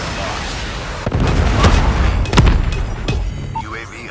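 A Predator missile strike explosion in the video game Call of Duty Mobile, hardpoint mode, heard as a loud broadband boom and rumble amid sustained gunfire crackle, with sharp blasts and faint voice-like chatter in the game mix.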